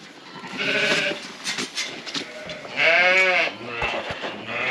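Sheep bleat loudly and close by in lambing pens, one long wavering bleat standing out among other overlapping calls and barn noise.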